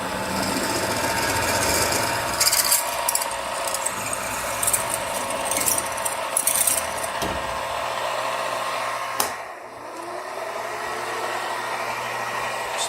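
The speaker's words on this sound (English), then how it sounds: "Now I'm going to drill all the way through to the other side." A power drill with a 1/4 inch bit bores straight through a workpiece during a pedal build, a loud sustained whine with grinding bursts that briefly eases off before running on.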